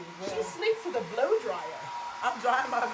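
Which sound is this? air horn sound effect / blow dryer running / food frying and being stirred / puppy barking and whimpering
blow dryer running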